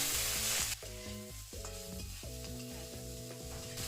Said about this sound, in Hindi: आलू और प्याज फ्राई कर लेंगे